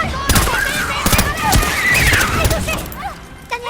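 Dense gunfire bursts rattle through a chaotic Alien: Covenant film scene, mixed with shrill creature shrieks and crashing effects, loud and continuous throughout the short stretch.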